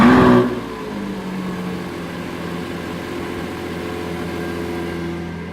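A new push-button-start car engine fires up with a loud surge in the first half second, then settles into a steady, even running hum that continues close by without talk.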